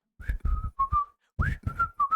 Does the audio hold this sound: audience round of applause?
no